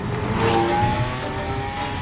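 A tuned 10-second drag car at a Japanese tuning shop revs its engine, a loud, sustained close-up roar with whining tones, no voices.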